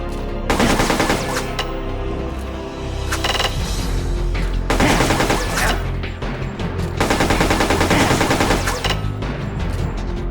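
Rapid automatic gunfire bursts from the PSP game Metal Gear Solid: Portable Ops, loud repeated volleys in three or four long bursts with brief gaps, over a steady low game rumble and no talking.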